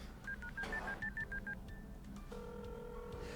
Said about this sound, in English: It says call Vela.